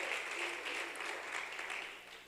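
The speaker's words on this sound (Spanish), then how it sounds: "Denle ese aplauso al Señor, aleluya." Church congregation applauding during a Spanish-language sermon, a steady wash of many hands clapping at moderate distance throughout, with no clear voices over it.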